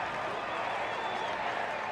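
Crowd noise at an AUDL ultimate frisbee game, a steady broad roar of cheering and applause filling the stands, moderately loud and continuous with no distinct voices standing out.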